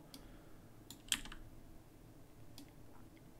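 Computer keyboard arrow keys pressed one at a time during frame-by-frame tracking in DaVinci Resolve, giving a few sparse, quiet clicks over a low steady room hum.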